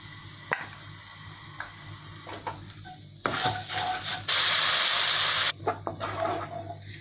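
Kashmiri red chili and spices including bay leaf and cinnamon cook in a pan for kadai paneer, giving a near sizzle with stirring clinks and scrapes that swells into a loud, steady hiss midway.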